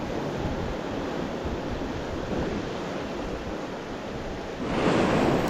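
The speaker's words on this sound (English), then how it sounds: "So there's this small little chop. We got a bit of wind against tide." Wind blowing over small choppy waves on skinny coastal water, wind against tide, a steady broadband wash of breeze and lapping chop close to the microphone, swelling louder near the end.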